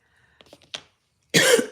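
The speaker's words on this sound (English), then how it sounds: "Does anyone ever get that nagging cough that just won't go away?" One sharp cough bursts out close and loud after a few soft clicks and faint rustles, then trails off quickly.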